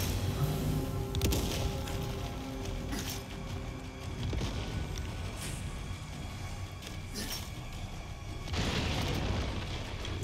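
A grenade goes off in Resident Evil 4 inside a creepy castle: a deep, booming blast early on, then a second broad burst near the end, over rumbling, creaking game ambience.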